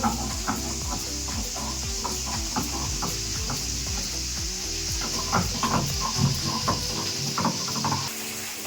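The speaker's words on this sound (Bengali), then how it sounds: "এখন এটা বেটে দিচ্ছি" Chili, ginger, tomato and mustard are ground into a spice paste, a rhythmic scraping and rubbing of stone against stone repeating steadily at close range, with no talk.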